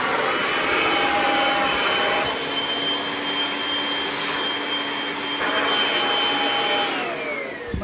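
A Kirby vacuum cleaner run as a blower to clear dirt from between car seats, giving a loud steady whining roar that holds alone with a slight pitch shift near the end.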